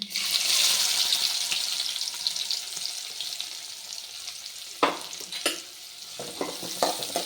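Chopped large onion with cumin frying in a pan for liver fry, a steady bright sizzle that fades slightly, broken by a few scraping stirs near the end, with no talk.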